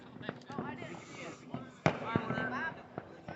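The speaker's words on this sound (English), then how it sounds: "It's raining fireworks." Fireworks go off at a family July 4th get-together outdoors, sharp crackling pops and bursts scattered over continuous nearby chatter and voices.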